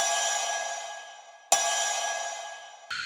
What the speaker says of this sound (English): the cowbell